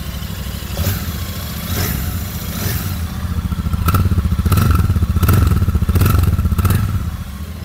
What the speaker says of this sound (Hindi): एग्जॉस्ट नॉट भी बहुत ही मतलब बहुत ही अच्छी साउंड निकाल रही है दोस्तों ये गाड़ी